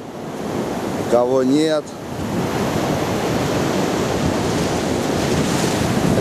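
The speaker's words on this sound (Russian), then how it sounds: "Океан штормит." Stormy ocean surf rolling onto a deserted Cuban beach at evening, a steady broad roar with wind buffeting the microphone throughout; a brief spoken phrase rises over it near the start.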